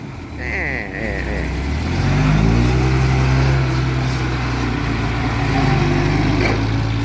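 Truck or car pulling away from a stop, its engine rising from idle into a loud, steady acceleration that holds and drones on, with some voices briefly over it.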